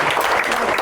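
Audience applause for a contestant at a lighthearted game show, a brief burst of dense clapping at steady loudness.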